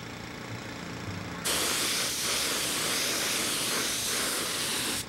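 A spray can or spray gun sends paint onto the underside of a part, a loud, close, steady hiss that starts abruptly after a quieter moment and runs on evenly.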